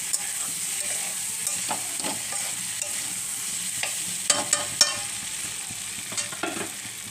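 Small potatoes with tomato fry in a pan for pulao, a steady quiet sizzle broken by sharp scraping stirs of a spatula, close and without any talking.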